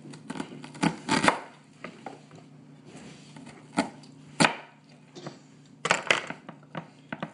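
A knife chops onions on a cutting board for Thanksgiving stuffing, giving irregular sharp knocks in small bursts over a steady low hum in the room.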